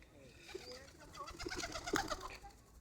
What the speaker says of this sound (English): Oh, look at the bird. He's curious.